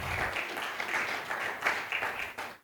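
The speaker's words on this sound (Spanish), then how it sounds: "Dale fuertes palmas al que vive para siempre." A church congregation claps in loud, sustained applause during a sermon, the clapping continuous and crowded with slight swells in intensity.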